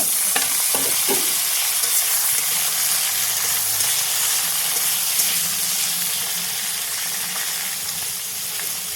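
Beans and potatoes, joined by other vegetables and tomato, fry loudly in a pan for masala pasta; a dense, continuous sizzle with a few early spatula knocks, no voices.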